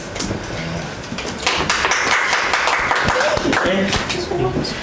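A workshop audience clapping in a room, sharp scattered hand claps that thicken into applause, with a voice talking over them.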